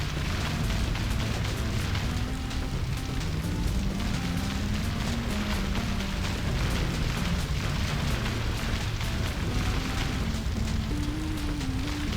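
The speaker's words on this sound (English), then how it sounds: "this version of the fire spell is significantly more difficult to dodge than the previous iteration" Fire spell attack in a Skylanders video game: a continuous crackling, roaring whoosh of flames with repeated bursts, steady and loud for the whole stretch, mixed with a low game melody and no speech.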